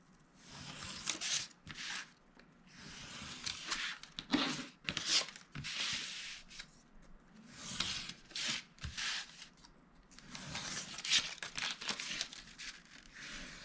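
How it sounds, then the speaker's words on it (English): Paper folded over and trimmed while building a pedestal box, with repeated close crinkling and rustling in bursts, some sharper tearing or cutting rasps, and no talking. "So let's just fold that over, and then we're going to trim out that excess."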